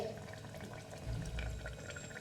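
Water bubbling at a boil in a pressure cooker while chicken curry is being made, a soft, steady burbling with a slightly louder surge midway through, close and quiet.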